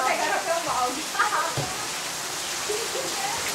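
Rain patters steadily as a soft hiss while children play outdoors in it, with faint voices and occasional splashes scattered through the wash of falling drops.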